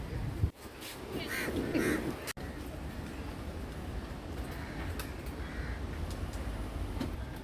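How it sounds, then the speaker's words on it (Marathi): Crows caw in a few harsh calls early on at Sinquerim Beach near Lower Fort Aguada in Goa, over a steady wash of surf and wind. "कितले कावळे पळयात"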